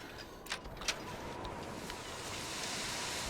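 A snowstorm's wind blows steadily in the video game The Long Dark, a faint, continuous broadband rush that holds throughout with a few brief gusts.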